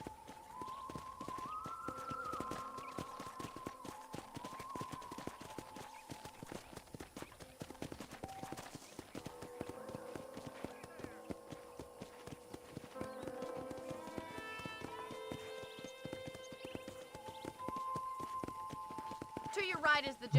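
Horse hooves clip-clop at a steady walking rhythm around a ranch in the video game Red Dead Redemption, heard close under a voice, with game music notes and ambient sounds layered behind.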